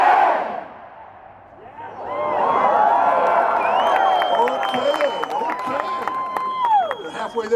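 A large outdoor crowd in Union Square, San Francisco, roars a drawn-out chant during a spell-out event. The swelling, sustained mass of voices stays loud and close, with scattered whoops and shouts rising on top.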